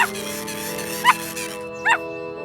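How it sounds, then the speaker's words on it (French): A small dog yips twice, sharp and high, spaced under a second apart against a sustained humming backdrop. "C'est le petit chien."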